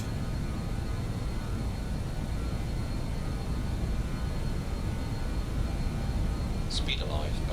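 BAe 146-100 jet engines at takeoff power, a dense, steady roar filling the cabin or cockpit for the whole stretch, with a short voice-like chirp near the end.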